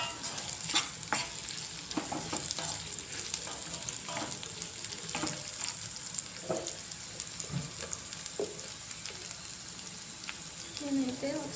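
Curry leaves going into a pan of frying bitter gourd, with a steady close sizzle and repeated scraping stirs and spoon clinks, and a brief louder burst of frying near the end.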